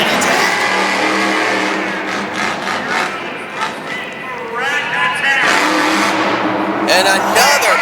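A 1963 split-window Corvette-bodied race truck called Rat Attack revs hard at a motorsports pull event, its loud continuous engine roar rising and falling with crowd noise and a commentator talking over it.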